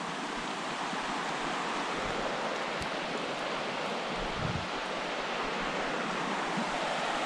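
Steady broadband rush of a river flowing past a quiet campsite in a small Minnesota state park, constant and unbroken, with no other sounds over it.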